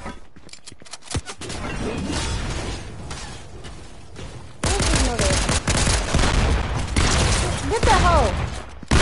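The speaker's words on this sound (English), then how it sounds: "What's shooting at you?" Rapid bursts of video game gunfire crackle in a dense, loud fusillade, with pops and blasts throughout and louder after the midpoint, while voices talk over the shooting.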